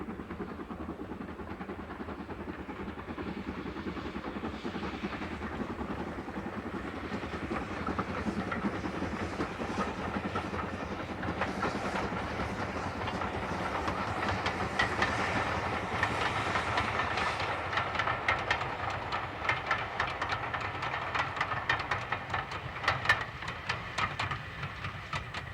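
GWR 6619 steam locomotive works along the North Yorkshire Moors Railway in a steep valley, a steady rumble and hiss with rhythmic clatter growing louder as the train draws nearer.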